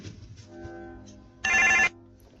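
A phone gives one short, bright ring burst roughly midway, loud against a faint background murmur.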